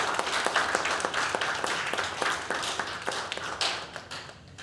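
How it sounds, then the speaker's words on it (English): An audience claps steadily at a talk, many hands giving loud, dense applause that carries for several seconds before thinning toward the end. "Let's give her a big round of applause."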